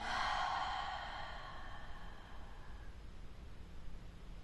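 Slow, audible exhale during a yin yoga breathing exercise, a soft breathy rush of air that fades gradually, heard close and alone in a quiet room.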